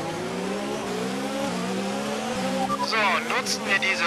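An F1 car in the F1 2019 racing game at Spa, Belgium, runs through its gears on a warm-up lap: a rising engine whine drops in pitch at each upshift, several shifts in a row, loud and close.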